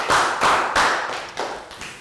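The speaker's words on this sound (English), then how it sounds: "A round of applause for everyone" A class of Year 3 students clapping in a classroom, a few loose bursts of applause that rise and fade over two seconds, close and fairly soft with no talking.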